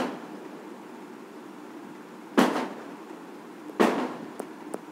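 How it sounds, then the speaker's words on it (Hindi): Firecrackers burst outdoors in India, two sharp distant bangs a second or so apart followed by faint crackles, over a quiet background hiss. "भाई साहब हमारे यहाँ अभी चल रही है क्या, पटाखे फूट रहे हैं"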